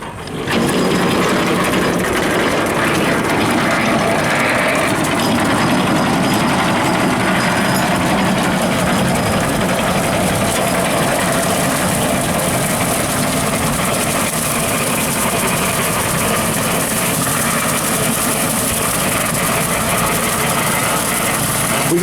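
Tractor driving a Woods 15 ft brush hog mower at 1500 RPM on a golf course, a steady, loud, continuous engine drone with mechanical rattle and whir running unbroken throughout, with no talking.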